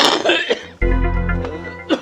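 An elderly man coughs in one heavy, close burst with a rough throat-clearing quality, amid brief speech sounds before and after.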